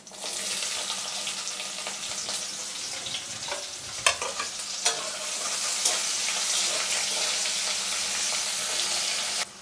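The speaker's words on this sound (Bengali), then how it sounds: "পেঁয়াজটা লাল করে ভেজে নিব।" Chopped onions with nigella seeds and a bay leaf fry in hot oil for a fish roe and eggplant curry, giving a steady, close broadband sizzle throughout. A few sharp clicks of stirring break through near the middle, and no one speaks.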